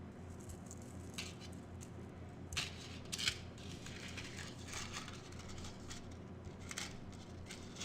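Scissors snipping through craft pieces, with quiet irregular cuts and a few sharper snips, close by and alone, with soft handling rustles in between.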